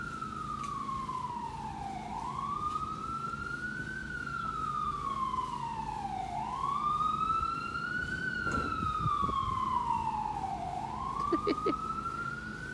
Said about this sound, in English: And now here's the ambulance.